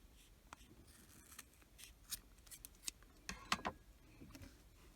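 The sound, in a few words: scissors cutting yarn strands for a crochet tassel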